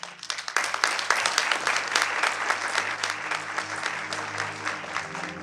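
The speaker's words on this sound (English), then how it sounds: "I really want to start by that round of applause to everyone who have put this" A seminar audience breaks into applause, steady dense clapping from a crowd with a low hum underneath, starting abruptly and carrying on at an even level throughout.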